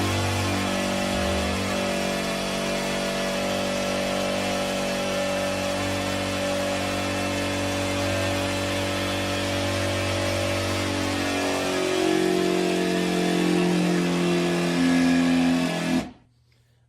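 Electric air pump inflating an 11.6-foot SUNCORP inflatable paddle board, a loud, steady motor hum that deepens slightly in strain before cutting off abruptly near the end, with no talking.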